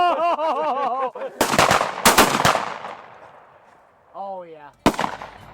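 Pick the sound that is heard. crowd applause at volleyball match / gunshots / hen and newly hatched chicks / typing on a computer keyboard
gunshots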